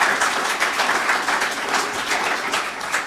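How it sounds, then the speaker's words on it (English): Conference attendees applaud steadily, a close, even wash of many hands clapping at moderate loudness with no speech over it. "I think they deserve a round of applause."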